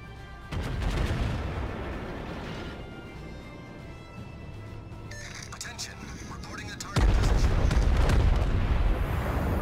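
The German battleship Bayern fires its main guns in World of Warships. Two heavy booms ring out, one near the start and a louder one later, each followed by a long rumbling roar.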